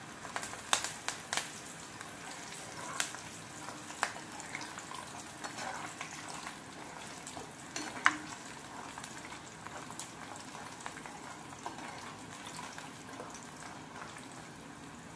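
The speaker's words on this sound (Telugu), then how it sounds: "ఇంకా ఒక్క నిమిషం వేపుదాం వీటిని." Sweet puri fry in hot oil in a pan, giving a steady, soft bubbling sizzle with scattered crackles and pops, close by and fairly quiet, with no talk.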